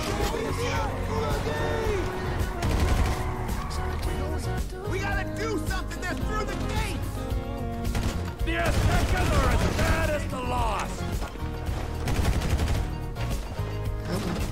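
Video-game gunfire crackles in bursts of rapid shots and sustained volleys throughout, sitting under a person talking over the action.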